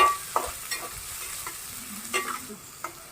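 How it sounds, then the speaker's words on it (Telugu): Onions frying in a pan with a steady sizzle, stirred by a spoon that gives a few scraping knocks against the metal, close and with no voices. "ఈ ఉల్లిపాయలు బాగా వేపుకోవాలి."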